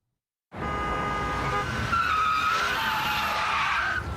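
Car tires screech and skid under hard braking in a radio ad sound effect, bursting in abruptly after a moment of silence and sustaining a loud, wavering squeal to the end.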